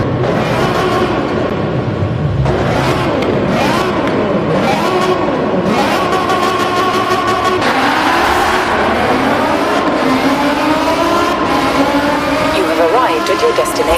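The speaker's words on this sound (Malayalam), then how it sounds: "വണ്ടി നല്ല രീതിയിൽ പൊട്ടുന്നുണ്ട്" A car engine revs hard and continuously with loud, aggressive exhaust popping and crackling. The sound stays close and dominant throughout, with shifting engine pitch as the throttle climbs and drops.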